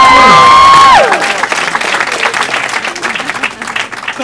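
A comedy club audience bursts into loud applause and cheering as a music sting fades out, with dense clapping and whoops that continue steadily to the end.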